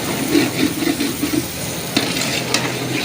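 Aloo matar, potatoes and peas, sizzles as it fries in a pan while a spoon scrapes and stirs it in repeated strokes, close and steady, with no voices.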